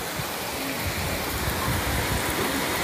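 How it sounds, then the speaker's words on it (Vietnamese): Heavy rain after a tropical storm in central Vietnam, falling as a dense, steady hiss and patter on surfaces, loud and unbroken with no voices. "Giờ mưa quá rồi."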